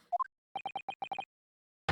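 Short electronic beeps in The Great Ace Attorney Chronicles sound like Morse code: a rising three-note chirp, then a quick string of seven evenly spaced identical tones, ending in a sudden burst of noise.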